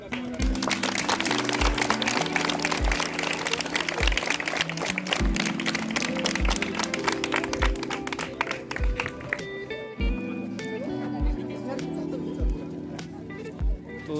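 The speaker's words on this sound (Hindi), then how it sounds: "उनका उत्साहवर्धन करते हुए ताली बजाएं और उनका स्वागत" Students clap to cheer volleyball teams at a Children's Day event at a government higher secondary school. Dense applause runs throughout, mixed with a steady thumping music beat and crowd noise.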